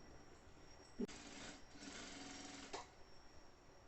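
A sewing machine runs in one steady burst of about two seconds, stitching a reinforcing seam over elastic on a maternity bag. Short clicks mark the start and stop, and the surrounding room is quiet.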